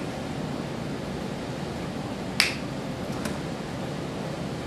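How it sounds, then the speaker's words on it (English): One crisp finger snap from a magician during a close-up magic performance stands out sharply over a steady background hiss, followed a moment later by a fainter second snap. "snap my fingers, and when I do, they will teleport into my pocket"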